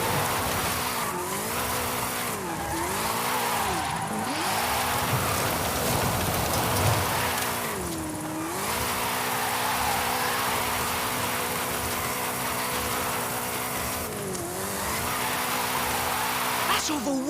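Car drifting in Forza Horizon 5, with a steady engine roar rising and falling in repeated revving sweeps and a continuous hiss of tire smoke and squeal running throughout.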